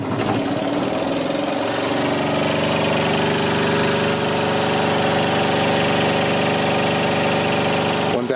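A Kromrey generator motor spins up to speed and keeps running steadily, a loud continuous mechanical drone with a rattling, knocking texture throughout and no talking.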